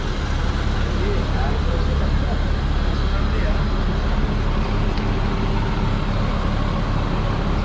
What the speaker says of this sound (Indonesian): ini adalah bus Damri, yaitu bus super class yang mengantarkan kita ke Kalimantan Tengah